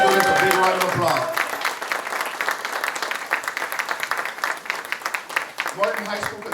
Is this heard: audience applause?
yes